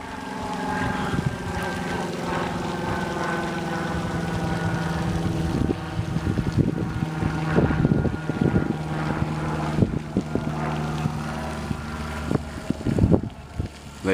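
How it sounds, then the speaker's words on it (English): A jet airliner roars steadily high overhead in Lakeland, Florida, flying east to west, a broad low rumble that persists throughout, with gusts of wind buffeting the microphone. "It's a commercial plane."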